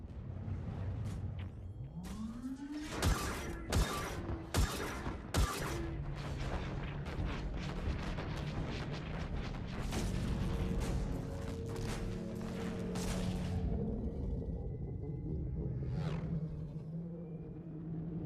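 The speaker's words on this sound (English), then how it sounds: "Das wird fette Explosion, Junge." Heavy explosions and booming blasts from the video game Mass Effect 3, a run of sharp loud detonations followed by rumbling roars and debris, with no talk over them.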